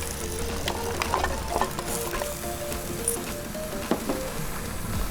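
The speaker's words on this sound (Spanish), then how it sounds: "Revolvemos. Ponemos el zapallo." Squash goes into a hot pot of Mapuche charquicán with potatoes and is stirred. Steady sizzling and frying runs throughout, with scraping and clinking of the utensil against the pot and a few sharper knocks.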